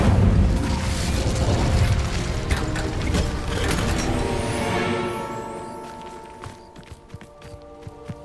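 A fire spell erupting in Hogwarts Legacy, a loud sustained whooshing burst for about five seconds, then fading into softer game effects and scattered small pops.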